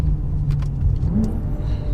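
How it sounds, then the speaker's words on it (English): BMW M6 Gran Coupe Competition with a DCT gearbox downshifting in second gear, a deep engine note that rises briefly in a quick blip and then settles, heard from inside the car with no talk. "Downshift's pretty quick on this DCT"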